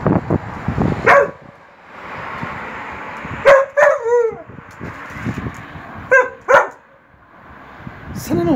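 Several sharp dog barks in scattered bursts, some close and loud, over a steady outdoor hum with a faint voice early on.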